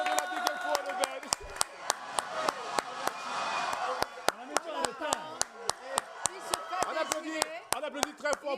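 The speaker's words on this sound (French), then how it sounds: "On applaudit pour Benjamin Benjamin de la Big Info de Ben." A television studio audience claps for an arriving guest. The sharp, regular claps beat in a steady rhythm, backed by a busy mix of voices and background music.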